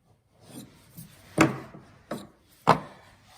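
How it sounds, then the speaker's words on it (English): Several sharp scraping strokes of a chisel against wooden stairs during repair, spaced irregularly, close and crisp against a quiet background. "So I take my chisel"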